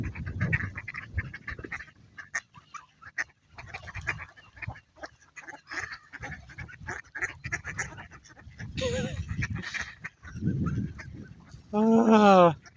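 A crowd of ducks quacks noisily and repeatedly close by, with bursts of rough calls and a loud honking cry near the end, and someone speaks between the calls.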